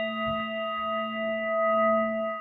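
A gong sound effect rings out as a steady sustained metallic hum with several clear overtones, holding evenly and alone without fading.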